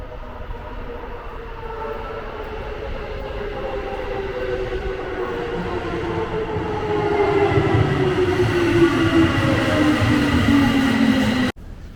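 A Tokyo Metro train arrives at Nezu station, its loud rumble and rising, whining motor tones building and shifting as it pulls in close, then cutting off abruptly at the end.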